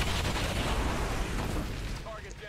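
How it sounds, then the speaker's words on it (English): Loud explosion in the strategy game XCOM 2 (Long War of the Chosen mod), a dense, sustained rumbling burst that fills the clip and fades slightly toward the end, with no talk over it. "And I don't want to be impacted by the explosion."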